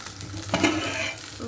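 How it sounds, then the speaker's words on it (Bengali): Fish frying in a pan during home cooking, with a soft steady sizzle and brief stirring or clattering, close and alone with no talk. "আর এই যে এখন মাছ ভাজা চলছে"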